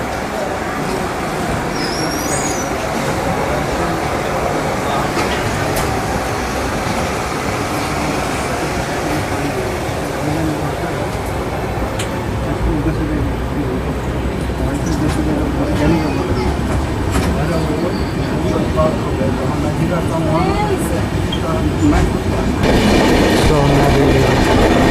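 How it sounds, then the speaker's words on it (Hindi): An Indian Railways 04064 Summer Special train pulls out of Dehri on Sone station, its loud rumbling and clattering wheels steady throughout, with voices and traffic-like noise mixed in. "अब हमारी ट्रेन डिपार्चर लेकर डेहरी ऑन सोन"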